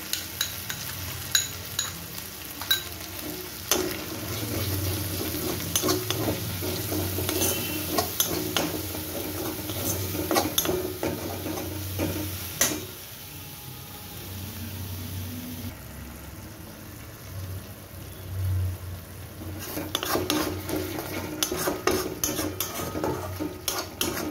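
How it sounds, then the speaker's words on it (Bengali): Spice paste with ginger and sour yogurt is stirred and fried in a pan for Kashmiri aloo dum, giving steady close sizzling with repeated spoon scrapes and clinks against the pan. "মশলাটাকে নেড়ে নেড়ে ভালো করে কষিয়ে নিতে হবে"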